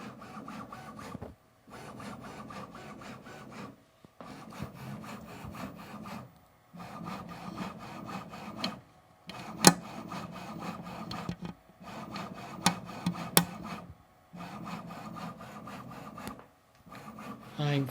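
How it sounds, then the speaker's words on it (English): A Bambu Lab X1C Carbon 3D printer runs close by, making a steady mechanical whirring and scraping in repeated bursts with brief pauses between them, plus a few sharp clicks. "put it next to the printer so you can hear the sound"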